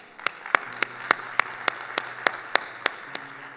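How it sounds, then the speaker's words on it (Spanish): Church congregation clapping to welcome a first-time visitor during a sermon, a sparse, fairly quiet applause with a steady rhythm of distinct individual claps over a low hum, lasting a few seconds. "le damos un fuerte aplauso"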